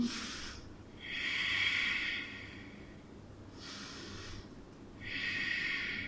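Slow, deep breaths during a vinyasa yoga class, three long airy exhalations spaced a few seconds apart, close and steady with no talking in between.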